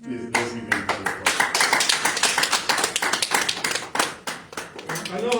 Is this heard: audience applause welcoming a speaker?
yes